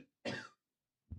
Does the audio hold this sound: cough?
yes